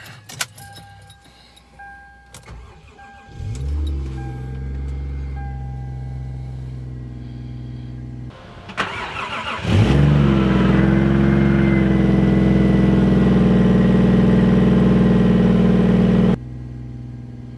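Keys jingle, then a turbocharged Toyota 1JZ engine in a Lexus GS300 cranks and starts, settles to idle, is blipped up with a louder rev, and idles steadily before cutting off.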